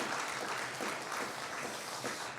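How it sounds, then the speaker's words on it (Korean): A church congregation gives a round of encouraging applause during a Sunday worship service, a fairly soft, even patter of many hands that continues without a break. "우리 한번 격려의 박수 한번 드립시다"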